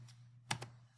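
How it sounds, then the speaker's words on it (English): A single delete key pressed on a computer keyboard gives a faint, quick double click in a quiet room. "When I hit delete on the keyboard, it's going to delete just the trees."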